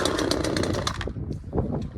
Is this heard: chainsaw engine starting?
yes